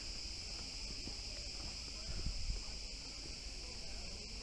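A loud, continuous high-pitched buzzing drone of crickets in a tree near Kursunlu Falls, steady throughout, with faint footsteps and rustling underneath.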